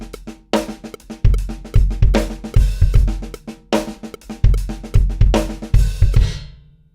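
Drum kit groove, with kick, snare and cymbals played in a steady repeating pattern and a strong accent landing on beat four of each bar, loud and close, ringing out at the end.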